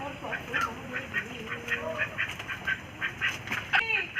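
Two domestic ducks quack repeatedly in short, rhythmic calls at close range while people talk nearby.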